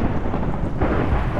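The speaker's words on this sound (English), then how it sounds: "Oh, this lightning's doing my head." Thunder from lightning in Minecraft rumbles in a low, continuous roll with a rain-like hiss over it, loud and sustained, with no voices.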